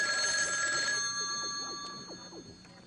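A telephone bell rings once, bright and metallic, then decays over a couple of seconds into light clicks and handling noise, heard at moderate level in an indoor setting.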